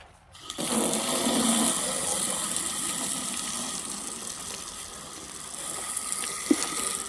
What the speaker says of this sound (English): let's rinse this one off